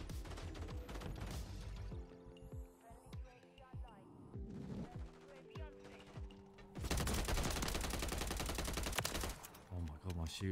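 Rapid submachine-gun bursts from Modern Warfare 3 gameplay, dense and loud, firing in repeated volleys with steady tonal game sounds running underneath and a heavier sustained barrage near the end.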